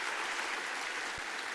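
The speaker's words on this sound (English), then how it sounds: "Let's give Taylor a round of applause," Audience applause at a New York Tech Meetup demo night honoring a presenter, a dense, steady wash of clapping throughout the short stretch, with no talking.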